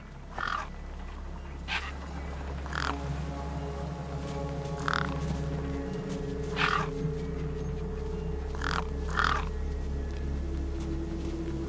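Crows in the Beyond a Steel Sky video game, cawing in several short harsh calls spaced a few seconds apart over a steady low ambient drone.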